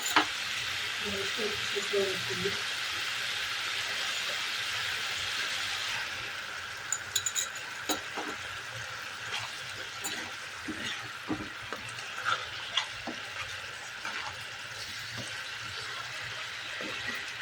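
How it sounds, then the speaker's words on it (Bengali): Okra sizzles and fries in a pan, a steady hiss that softens as the pieces are turned over with a spatula scraping and clinking, and a voice talks briefly. "ঢ্যাঁড়সগুলো আমি এটাকে উল্টে দিচ্ছি"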